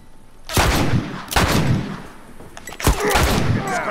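Three loud, close gunshots from The Last of Us Remastered ring out about a second apart, each blast followed by a short reverberant tail.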